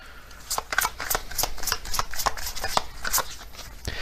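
Zodiac cards being shuffled by hand during a tarot-style reading, a crisp, steady run of close papery riffles and snaps with no talking.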